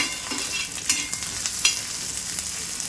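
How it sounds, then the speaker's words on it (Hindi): Onions browning with masala in a frying pan, a steady close sizzle with light scrapes and taps from stirring, with no talking. "जो प्याज बताई थी वो प्याज को भी हल्का सा हम इसके अंदर ब्राउन कर लेंगे"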